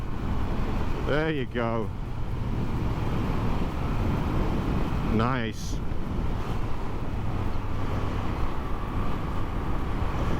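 A V7 motorcycle with electronic ignition and a stock OEM exhaust runs steadily, a continuous close engine rumble mixed with wind noise, while someone briefly speaks over it twice.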